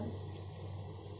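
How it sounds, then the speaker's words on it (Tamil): Thick coconut milk poured into chicken biryani, a faint, steady liquid pour with a low, even gurgle, with no talking. "நெக்ஸ்ட் 1/2 கப் திக்க தேங்காய் பால்"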